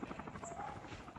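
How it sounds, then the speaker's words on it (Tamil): Helicopter in the COD Mobile battle royale game, a faint, brief rotor thrum under soft background sound. "ஹெலிகாப்டர் வருது."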